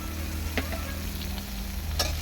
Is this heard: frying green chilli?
yes